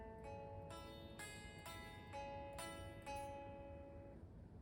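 Picked guitar on the middle strings in an up-down pattern for the intro of a song, a steady run of plucked notes that ring and overlap, quiet and close over a faint background hiss.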